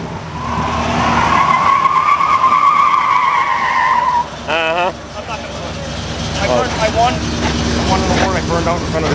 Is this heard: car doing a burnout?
yes